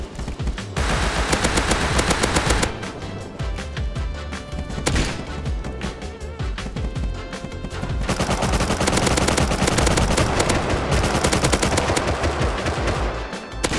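Dense automatic gunfire in the survival game Rust, rapid bursts of shots rattling almost continuously, loud and close with brief gaps between volleys.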